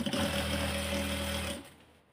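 A domestic sewing machine runs steadily, stitching the side seam of a georgette kameez, its motor hum loud and continuous for about a second and a half before winding down and stopping.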